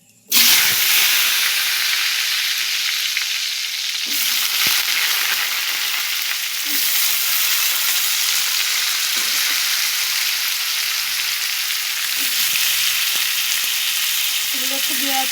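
Papaya and potato pieces sizzle loudly in hot oil with whole cumin and dried chili, a dense continuous frying hiss broken by a few stirring scrapes and clinks.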